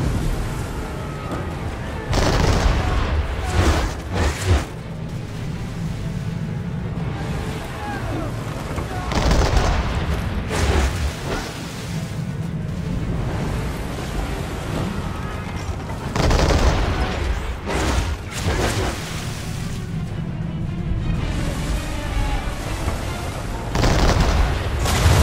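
An enemy shooting over and over in the video game Assassin's Creed 3, a run of loud gunshot bursts and booming blasts spread unevenly across the clip amid battle noise, with a voice talking at times.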